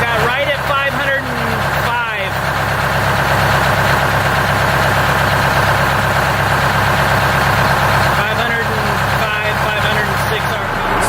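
A vintage bus's Detroit Diesel engine idles at about 505 RPM with a steady, rough low rumble that persists throughout, close and loud, while someone talks over it.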